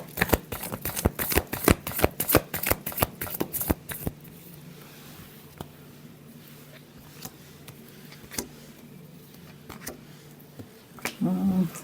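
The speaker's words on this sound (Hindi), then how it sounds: "Last shuffle." A deck of tarot cards is shuffled in quick, riffling bursts for about four seconds, followed by a few faint card taps and slides. A voice briefly begins near the end.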